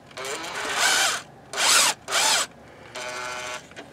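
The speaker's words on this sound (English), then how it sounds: "I'm gonna use this tap guide to help keep the drill bit fairly straight lined up." A power drill whines in four short bursts separated by brief pauses, close by and fairly loud, drilling through a tap guide into a stripped thread hole in an aluminum engine block.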